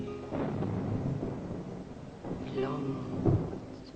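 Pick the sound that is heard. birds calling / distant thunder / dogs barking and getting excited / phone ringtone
distant thunder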